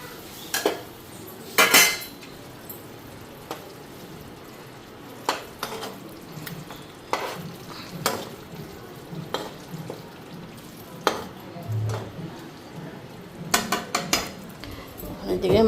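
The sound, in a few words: fish and onions frying with chilli powder in a pan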